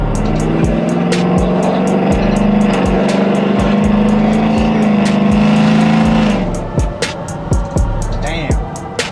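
A 2025 Ford F-150 with a 5.0 Coyote V8, Corsa Extreme exhaust and long-tube headers drives along, the exhaust droning loudly at steady cruise, then easing off into pops and burbles as the throttle lifts.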